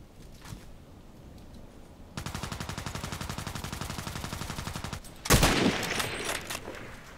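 Gunfire in a sniper video game: scattered shots at first, then a long sustained burst of rapid automatic fire, followed by a sharp loud blast and continued heavy shooting, all without speech.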